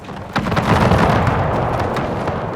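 Deep rumbling explosions boom in a dense, continuous barrage in an Austro-Prussian War 1866 video game battle, loud and sustained with a sharp burst near the start.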